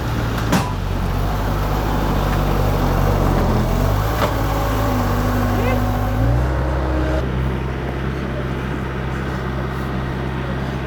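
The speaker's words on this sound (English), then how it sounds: "So I'm just gonna get the truck to roll right over it, or actually both trucks." A heavy truck rolls over freshly spread road base on a grading pad for a concrete foundation, its engine rumbling low and steady at close range with a shift in pitch midway, loud and continuous throughout.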